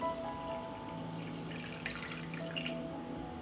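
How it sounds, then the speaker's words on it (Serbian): Cold water being poured into a pot holding glass jars set on a cloth, ready for pasteurising, a faint steady trickle and splash up close with no talk. "I u šerpu sipam hladnu vodu do visine poklopca."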